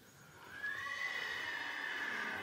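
A Criollo horse gives one long, drawn-out whinny with a wavering high pitch, heard fairly close over a steady outdoor background.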